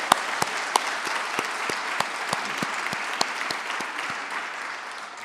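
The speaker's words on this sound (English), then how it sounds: "Let's clap to that." An audience claps steadily at a women's day breakfast held in Parliament, dense, close applause with a few sharper individual claps standing out, continuing without pause.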